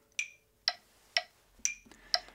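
A phone metronome app ticks steadily, five evenly spaced sharp beeps about half a second apart, with an accented higher note marking the beat among lower ones, quiet and clean with no talk.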